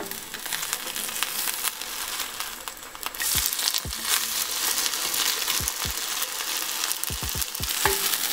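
Oat pancakes frying in a pan, a continuous bright sizzle with several sharp scraping clicks from a spatula as they are flipped in the second half.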